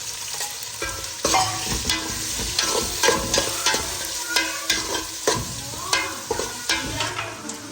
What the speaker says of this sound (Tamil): வெங்காயம் சேர்த்துக்கிறோம்.